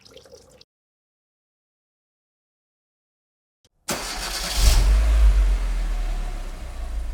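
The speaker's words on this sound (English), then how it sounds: "I'll warm the car up for a little while." A car engine starts after a stretch of near silence and settles into a steady idle while warming up during a coolant flush, running loud and close with a brief rise in revs just after starting.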